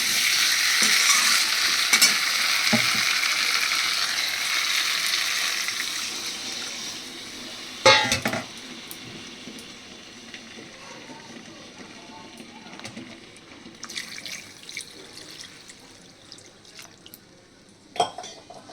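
Water poured into fried spice paste with boiled potatoes for rohu fish curry, a loud sizzling rush at first that settles into quieter bubbling, with a few stirring clanks of a utensil against the pan.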